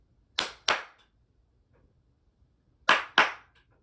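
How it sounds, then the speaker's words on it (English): Two quick double claps by hand to switch smart room lights on and off, each pair sharp and close, separated by a few seconds of near silence. "To toggle the lights, I can clap twice."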